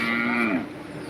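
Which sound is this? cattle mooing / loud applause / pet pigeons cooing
cattle mooing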